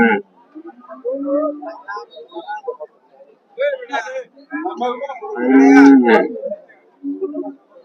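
Cattle moo among nearby voices at a livestock market, one deep drawn-out bellow standing out between bursts of chatter.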